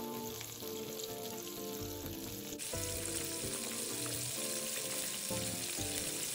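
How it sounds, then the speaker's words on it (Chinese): Chicken pieces deep-fry in oil over medium heat until golden and crispy, giving a continuous, even sizzle and bubbling close by with no talking. "中火一直油炸至金黄色后即可取出。"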